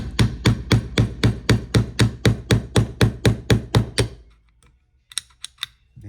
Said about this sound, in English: I just held this down and hammered like this